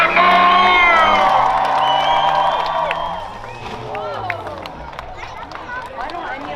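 A crowd cheers and whoops loudly at a county fair rough truck race, a sustained roar that fades somewhat after a few seconds, with an announcer's voice and scattered shouts over it.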